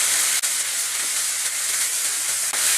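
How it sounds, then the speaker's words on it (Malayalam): Onions and ginger garlic paste fry in a pan with a loud, continuous hissing sizzle, close and even, broken by a couple of brief dips as the pan is stirred. "ഈ സവാള നന്നായിട്ടൊന്ന് മൂത്ത് വരണം."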